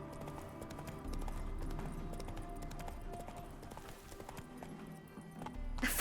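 Roach the horse in The Witcher 3 video game, steady clip-clop of hooves at a trot, rhythmic and continuous under game background sounds, moderately quiet.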